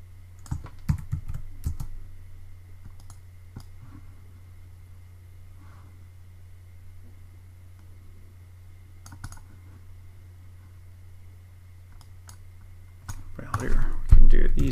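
Typing on a computer keyboard during screen-recording and video-editing work, scattered light clicks and key taps over a steady low hum, then a louder burst of rapid keystrokes at the end, with no talk.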